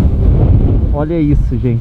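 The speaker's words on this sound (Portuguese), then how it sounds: "Hoje tá ventando, tá pior que ontem, tá muito pior que ontem." Strong wind buffets the microphone outdoors on a night out looking for the northern lights, a loud rumbling roar filling the first second before a voice speaks over continuing gusts.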